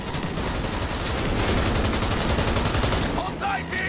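Sustained rapid gunfire from the video game Cyberpunk 2077, dense overlapping shots and bursts filling nearly four seconds at close range, loud throughout before briefly thinning near the end.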